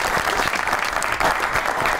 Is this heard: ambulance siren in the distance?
no